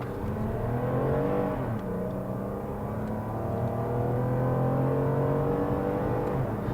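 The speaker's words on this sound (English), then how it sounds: "Since I have to get on this pretty quick road, we can see how the acceleration is again from a stop." Toyota RAV4 V6 Sport SUV pulling away from a stop onto a fast road, the engine note rising steadily through the gears as it accelerates, heard continuously from inside the cabin with no talking.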